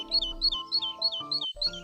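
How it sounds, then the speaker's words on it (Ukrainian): A raven calling, repeated harsh caws in a steady series, close and clear over a low musical tone that stops and restarts partway through. "ворон"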